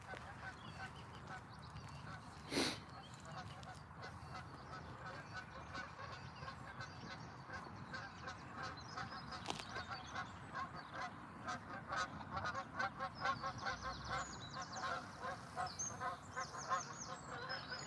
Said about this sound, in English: Lot of geese, I believe, or ducks.